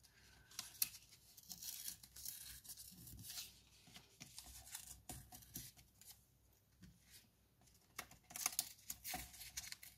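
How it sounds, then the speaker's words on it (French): Paper is torn along the perforated lines of a tissue box in a series of faint, close, scratchy rips with pauses between them. "je vais tirer parti des pointillés pour simplement tirer sur mon papier"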